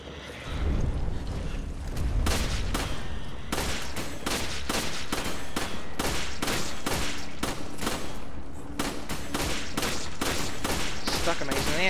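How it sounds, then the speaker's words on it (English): Rapid gunfire from the Resident Evil 5 video game, a dense, continuous volley of shots blasting at an armored monster, loud and sustained throughout, with voices faintly underneath. "she's shooting at its armor"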